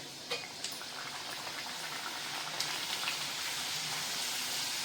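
Kadakani dough, a thin rolled jaggery sweet, frying in hot oil: a steady, dense bubbling hiss with a couple of sharp crackles near the start, continuous and close throughout.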